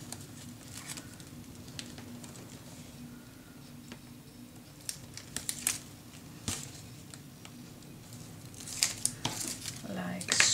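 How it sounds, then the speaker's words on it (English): Adhesive tape is peeled from scrapbook paper in short crinkling and tearing bursts that come closer together and louder toward the end. Soft background hum and light handling noises run under them. "then peel off your tape."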